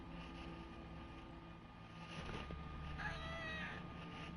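A cat meows inside the video game Skyrim, one short rising-and-falling cry near the end over a low droning game background, faint and distant.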